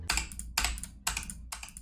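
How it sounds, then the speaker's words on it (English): Computer keyboard keys are pressed while working in Blender 3D software: four crisp, loud clacks, one roughly every half second, close up with no talking. "I can press the G key on my keyboard like this"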